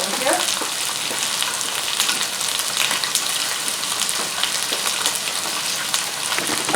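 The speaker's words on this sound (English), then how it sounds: "add chicken pieces and stir fry until light brown" Chicken pieces sizzle and crackle steadily in a hot pan as they stir fry, a dense close hiss with small scraping stirs throughout.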